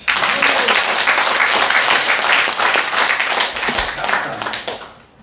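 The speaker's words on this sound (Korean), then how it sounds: "우리 모두를 해서 박수 치십시오" A church congregation bursts into loud, dense applause that holds steady for several seconds, then thins and fades out near the end.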